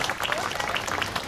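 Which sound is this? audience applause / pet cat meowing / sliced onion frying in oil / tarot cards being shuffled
audience applause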